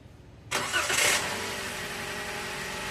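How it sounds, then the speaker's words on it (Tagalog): After a moment of quiet, a Toyota Avanza engine cranks and catches, then settles into a steady, close idle. "ibalik ko na itong radiator cap tapos start ko na itong makina"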